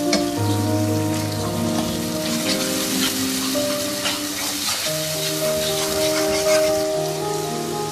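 Steady sizzling and crackling of garlic ginger paste and tomato paste frying in a pan, continuous and close, with a low hum running underneath throughout.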